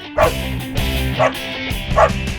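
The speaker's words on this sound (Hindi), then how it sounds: "अब तो कुत्ता ही लेकर आ गई" Dog barking in a Hindi comedy scene, with three sharp yips spaced about a second apart over a steady background of music or room tone, close and fairly loud.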